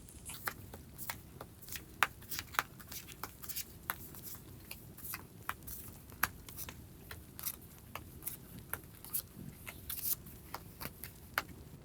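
Tarot cards being shuffled and handled at close range: a quiet, continuous run of crisp flicks, taps and slides, with sharp card snaps recurring irregularly throughout.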